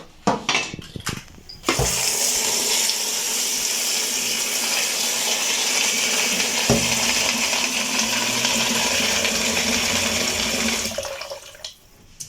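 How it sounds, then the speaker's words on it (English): Water gushes in a continuous loud stream into a pot for boiling pasta, running for about nine seconds. A few clinks and knocks come just before the pour and a few more as it stops. "And then put lots of water to it for it to boil."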